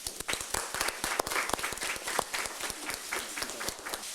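A Yonhap News press event audience in Korea claps in fairly sparse, distinct hand claps rather than a dense roar, uneven and moderately close, with a faint crowd murmur underneath.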